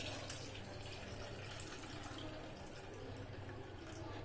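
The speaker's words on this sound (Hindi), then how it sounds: "अब हम इस दाल का पानी एक दूसरे बाउल में निकाल देंगे।" Rinse water poured off hand-washed lentils (dal) into another bowl, a soft continuous splashing trickle, fairly quiet and steady, with no talking.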